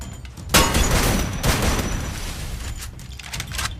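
Gunfire in the Free Fire battle royale game comes as dense, rapid bursts of shots. The shooting is loud and continuous, with sharp volleys throughout and no talk.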